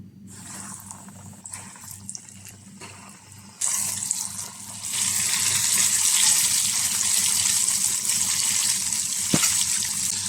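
Coated chicken pieces go into hot oil, bringing a sudden loud sizzle that builds into a dense, steady frying hiss after quiet clinks at the start.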